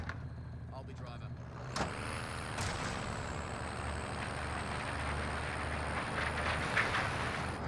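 A vehicle drives in Warzone, its engine droning steadily with a rumbling low end and a thin whine rising above it, while a voice talks intermittently.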